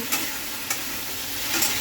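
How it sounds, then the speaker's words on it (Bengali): Mustard and poppy seed paste frying with root vegetables in a pan, a steady close sizzle with a few sharp scraping stirs, no voices. "এই মুহূর্তে আমি একটু সর্ষে আর পোস্ত বেটে রেখেছি, সেটা দিয়ে দেবো।"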